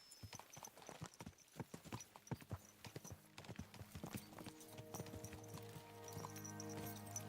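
Horses' hooves clip-clop at a brisk pace during a ride in the medieval game Kingdom Come Deliverance 2, the rhythmic footfalls close and clear, later joined by a steady low drone of music.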